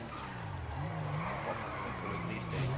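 Car drifting in GTA 5 Online, with a wavering engine note and continuous tire squeal and skidding sweeping up and down over a few seconds, loud and alone.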